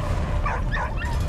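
A dog in the war video game Valiant Hearts gives a couple of short yips and whimpering barks over a steady low game background.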